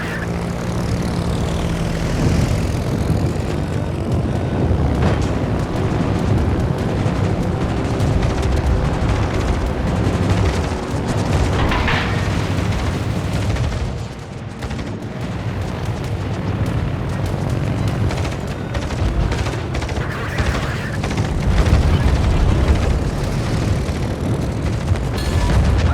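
In the World of Warships naval battle game, fighter aircraft drone continuously with propeller roar while explosions boom through a dense, loud mix.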